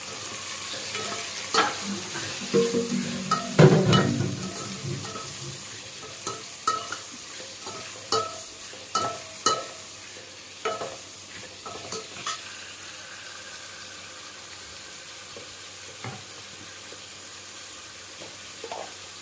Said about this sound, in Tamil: இப்போ நறுக்கி வச்ச 3 தக்காளியை சேர்த்துக்கோங்க.